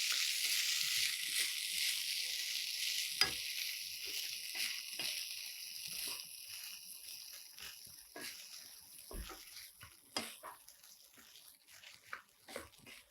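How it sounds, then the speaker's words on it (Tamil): Rice stirred in a hot pan, a broad hiss of frying that slowly fades, punctuated by occasional spoon knocks and scrapes against the pan. "இது நல்லா சூடாகிற வரைக்கும் கலந்து விட்டுடலாம்"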